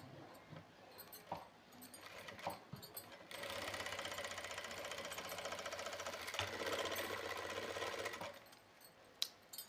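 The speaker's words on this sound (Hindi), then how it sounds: "एक साइड में सिलाई लगाएंगे।" A sewing machine runs in a steady motorized whir for several seconds, stitching one side of cut-out fabric hand gloves made from leftover cloth, with brief handling sounds before and after the run.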